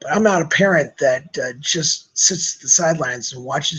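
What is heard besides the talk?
None of the usual background noises is heard.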